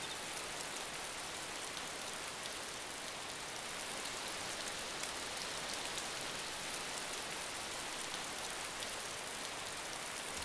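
Rain falls in the survival video game DayZ, an even, unbroken hiss of steady downpour that stays constant and fairly faint from start to finish, with no voices.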